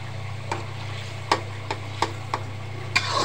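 Pieces of fried eggplant dropped into a simmering spiced curry: a few separate soft clacks and plops over a low steady bubbling hum, close and without speech.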